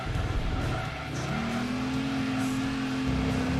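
A race car engine in Gran Turismo 2 revs hard and steadily, its droning pitch climbing and then holding high, loud and continuous with a faint tire hiss underneath.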